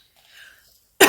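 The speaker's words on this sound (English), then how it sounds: "it's still like annoying that I'm still not done with the cough" One short, loud cough bursts out at the very end after a stretch of near silence with faint background murmur.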